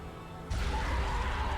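Combat hit effects from the action game Bayonetta surge in suddenly partway through. A loud, dense wash of impacts and whooshes follows, with no voices over it.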